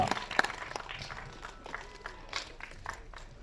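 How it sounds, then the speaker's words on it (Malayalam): Scattered, fairly faint applause rises from the audience at a film press meet for actress Abhirami, with uneven claps and some murmuring in the room. "ഒരു ഗംഭീര കൈയടി ഫോർ അഭിരാമി."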